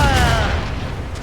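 Ship cannons booming in Assassin's Creed Rogue during a naval battle, a loud dense roar of fire filling the whole moment with a rumbling tail.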